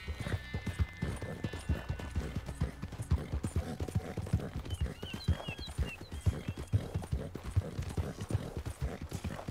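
Horse hooves clip-clopping at a steady walking rhythm in Red Dead Redemption 2, close and continuous for the whole stretch, with a faint whinny and soft in-game chatter in the background.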